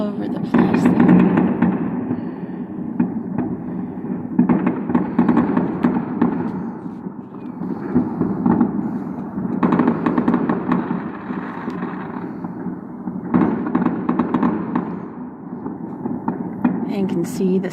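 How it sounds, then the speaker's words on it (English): Fireworks and firecrackers crackle and pop continuously in dense waves over a city during Chinese New Year, some bursts louder and nearer, over a constant outdoor rumble. "the smoke just laying over the city because of how many fireworks have been going off"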